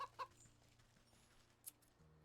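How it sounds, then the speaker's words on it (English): A pheasant in the Wytchwood video game gives chicken-like clucks, a couple of short soft bursts over quiet game music and ambience. "I don't know why the pheasant sounds like a chicken."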